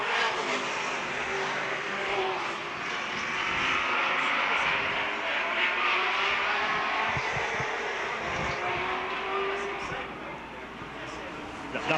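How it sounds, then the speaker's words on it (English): Race car engines droning and revving around a track during a 1999 feature race, a steady loud roar that swells and fades as cars pass, with commentators talking over it. "But the number 48 car of Dave Oblinas, he's really moving up in the pack there too"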